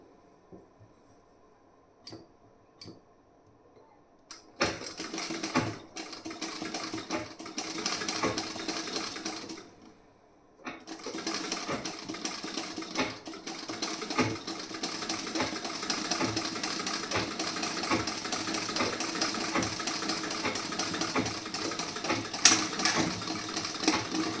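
A sewing machine stitches a blouse, starting with a few faint clicks, then running in a steady rapid whir, pausing briefly, and resuming in a long continuous close-up burst with no talk.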